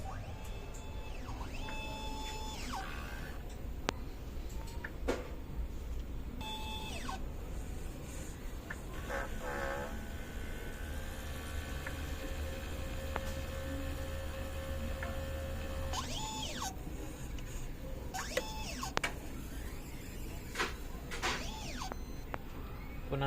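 An inkjet printer runs a head cleaning, its mechanism whirring and clicking steadily, with repeated motor sweeps and brief ticking bursts over a constant low background hum.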